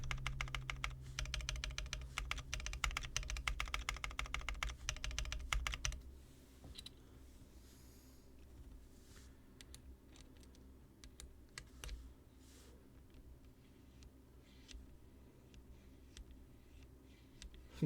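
Rapid typing on a mechanical Aaru65 keyboard, loud and dense for about six seconds, then slower scattered key clicks with brief pauses, close up.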